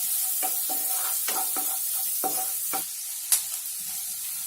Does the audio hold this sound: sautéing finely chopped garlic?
yes